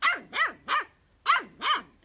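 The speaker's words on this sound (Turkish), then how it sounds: "nasıl bir havlama lan?" Close, loud barking from a dog: three sharp barks in steady rhythm, a brief pause, then two more, each with a rough, growly edge and nothing else heard.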